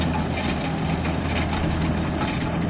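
A rice combine harvester engine runs at a steady low rumble, continuous and fairly close, with no talk over it.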